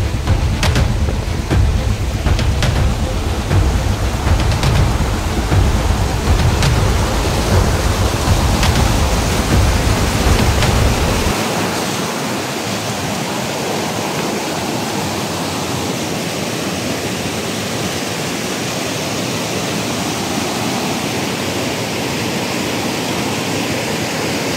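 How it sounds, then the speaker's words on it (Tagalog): Forest stream water overflowing and rushing, a loud steady broadband roar that drops slightly in weight partway through but keeps rushing continuously, close and with no voices. "Umaawas na yung tubig. Umaawas na siya."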